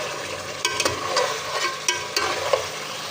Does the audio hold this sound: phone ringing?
no